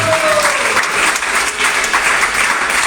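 A church congregation applauding and cheering in acclaim of Jesus Christ during a French-language sermon, steady loud clapping filling the room for the whole stretch.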